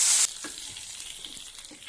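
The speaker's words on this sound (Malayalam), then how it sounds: "കടുക് പൊട്ടിച്ചതിന് ശേഷം മുളകും കരിവേപ്പിലയും കൂടി മൂപ്പിച്ച് സാമ്പാറിലേക്ക് ഇട്ട്" Mustard seeds, chili and curry leaves tempered in hot oil and tipped into Kerala sambar: a loud burst of sizzling that drops quickly into a softer, crackling simmer with faint stirring.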